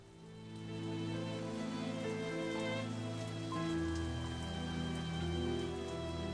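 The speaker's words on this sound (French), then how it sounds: "exactement la même quantité de pluie continue à tomber chaque année" Steady rain falls as a soft continuous hiss, faint and unbroken, with a sustained musical drone underneath and no voices.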